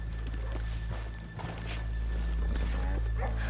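Horses' hooves clip-clop at a walk in Red Dead Redemption 2, several irregular near hoofbeats over a steady low ambient hum, with a brief whinny-like sound.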